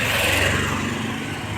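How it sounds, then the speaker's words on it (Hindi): Car engines sound loud and close on a road, with a continuous broadband roar that eases off slightly toward the end, like vehicles passing nearby. No one speaks. "कितनी की गाड़ियाँ आई"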